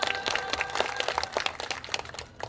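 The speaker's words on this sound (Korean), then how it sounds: "힘찬 박수와 함성" A crowd at an outdoor construction workers' rally in a plaza in front of Suwon Station applauds steadily, dense overlapping claps with a few sharper cracks, close and lively, with no talk over it.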